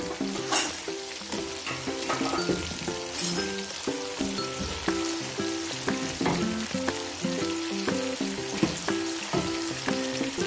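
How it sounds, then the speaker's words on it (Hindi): Chicken goes into a hot pot of oil for biryani and fries with a steady, loud crackling sizzle throughout, mixed with stirring and clatter. No one speaks. "अब उसके बाद मैं इसके अंदर चिकन डाल रही हूँ।"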